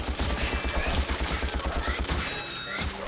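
Rapid, evenly spaced blaster fire from the Ratchet & Clank video game, a steady volley of loud shots repeating several times a second, with game effects layered over it.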